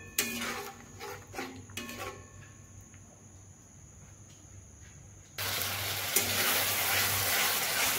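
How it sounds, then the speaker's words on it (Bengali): Masala with chicken curry spice fries in oil: a few scraping stirs and clinks at first, then a soft lull, and finally a loud, steady sizzle that holds close until the end. "এইভাবে এই মশলাটিকে বেশ ভালোভাবে কষিয়ে নেব।"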